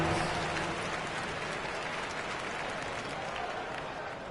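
In NBA 2K26 on PS5, Mavericks versus Bulls, a steady wash of crowd applause and cheering fills the whole stretch, dense and fairly loud, fading only slightly toward the end.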